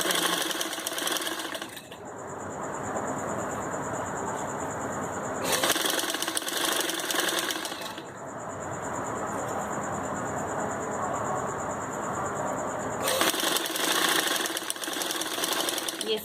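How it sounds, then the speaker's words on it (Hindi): Sewing machine stitching a small turban piece, its needle following a cardboard guide, running continuously up close in a loud buzzing drone whose pitch shifts slightly as the speed changes. "ये सिर्फ मैं आपको दिखाने के लिए इसकी सिलाई लगा रही हूँ।"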